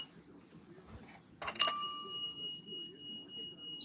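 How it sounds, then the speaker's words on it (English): A single bright ding rings from the bell on a Vector service cabinet and decays slowly over a low, quiet room background. "it's got a nice bell"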